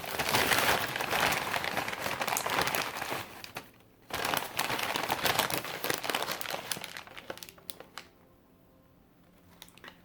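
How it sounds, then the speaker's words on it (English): Newspaper scraps crumpled and wadded into balls to stuff a brown paper bag for an owl craft; steady close crinkling and rustling with a short pause midway, then fainter handling at the end, no talk. "So wad those up gently and stuff them in the bag."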